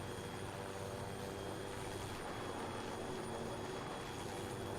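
Helicopter rotors and engine from the video game Arma drone at a steady, fairly faint level, a continuous mechanical hum without clear pauses or nearby speech.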